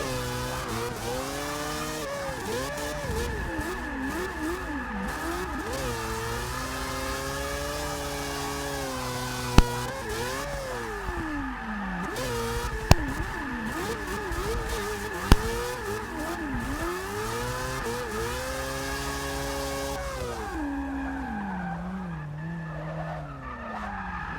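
A big BMW E39 and a much smaller Mazda RX-7 race in a video game at Le Mans, engines droning and shifting pitch continuously with repeated gear changes, tire skids and squeals, and a few sharp clicks over about twenty seconds, with no talking.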